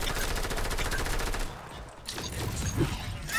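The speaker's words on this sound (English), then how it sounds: "You just try to shoot me from that far." Fast automatic gunfire in a shooter video game, a dense rattling burst that cuts off midway, followed by scattered shots and game noise.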